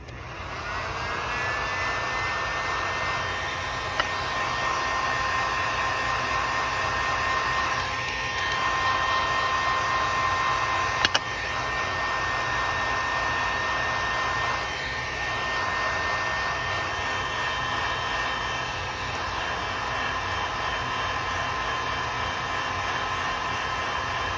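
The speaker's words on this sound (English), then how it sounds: "I just keep constantly moving the heat gun around" A heat gun blowing steadily on polymer clay with embossing powder, a loud continuous whooshing roar with a faint whine, held up close without pause and shifting slightly as the gun is moved around.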